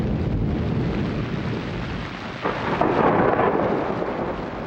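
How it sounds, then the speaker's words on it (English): A swamp thunderstorm rumbles with a steady roar of heavy rain, and a louder thunder swell builds midway and lingers. "In their first thunderstorm, the little gators seek shelter from the pelting rain."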